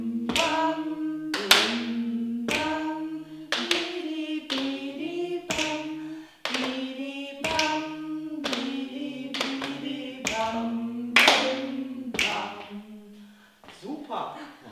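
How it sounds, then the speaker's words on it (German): Hand clapping as body percussion, a regular series of sharp claps and slaps in a steady rhythmic pattern, close and clear, with a sung or spoken voice running alongside the beat. "wir konzentrieren uns aufs Klatschen"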